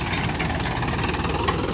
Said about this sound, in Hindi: ये देखिए हमारी ट्रैक्टर महिंद्रा 585 DI सरपंच में ये 11 टाइम्स की सीडल चल रही है।